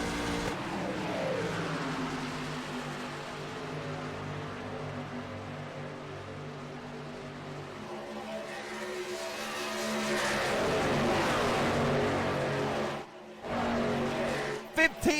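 Race trucks roar in a racing video game on the Kansas Speedway oval, with a steady engine drone that swells as they accelerate, near the end cut by brief breaks. A commentator talks throughout.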